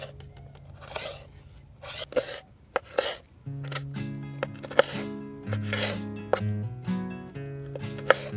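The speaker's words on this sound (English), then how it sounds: "let's slice some meat" A knife slicing top loin beef on a cutting board at a camp cook, with sharp clicks and taps of the blade against the board and metallic clinks, amid ringing pan tones.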